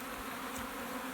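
Honey bees clustered around a swarm on leaves near the queen give off a faint, steady buzzing hum, low and continuous for a moment with no voices.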